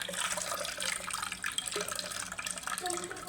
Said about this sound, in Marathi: आता पाणी काढून घ्या